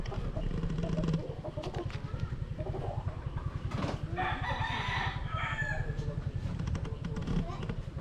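Stag roosters crow over a steady low hum, one clear crow rising around the middle against a background of other birds and faint voices.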